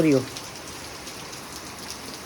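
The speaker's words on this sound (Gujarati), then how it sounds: "અત્યારે હું ઘરે પહોંચી આવ્યો છું વરસાદ પડે છે" Steady soft rain hiss, with a short voice at the very start.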